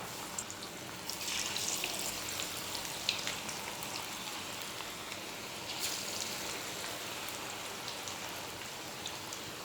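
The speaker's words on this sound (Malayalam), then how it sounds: "അതിലേക്ക് നമുക്ക് ഇങ്ങനെ ഷേപ്പ് ചെയ്ത ഉള്ളിവട ചേർത്ത് കൊടുക്കാം." Shaped onion vadas frying in hot oil make a continuous crackling sizzle like rain on a surface, swelling into louder bursts of spattering now and then, close up and with no talking.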